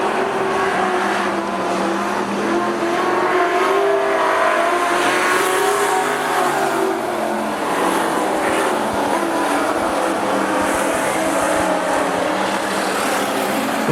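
AMCA race cars roar around Rockhampton Speedway, a loud, continuous blend of several engines droning and revving as the pack circles, engine pitch rising and falling steadily throughout.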